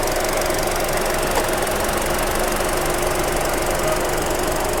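A 1.5-liter gasoline engine of a 2024 Hyundai Stargazer MPV with automatic transmission runs at idle, a steady, even drone with a faint knocking texture that holds constant throughout.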